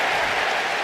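A crowd at a WWE video game wrestling match cheers and applauds in a dense, steady wash of noise that holds loud throughout the short stretch, with no voice over it.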